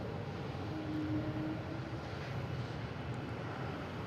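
A Delta airliner takes off at Boston Logan airport, producing a steady, broad jet engine roar that holds at moderate loudness throughout with no talk over it.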